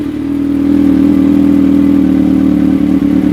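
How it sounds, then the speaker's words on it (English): A 2015 Kawasaki ZX6R fitted with an M4 GP shorty slip-on exhaust revs up and holds a steady, loud, droning engine note at close range, with no talk. "Kelly, I'm revving your bike."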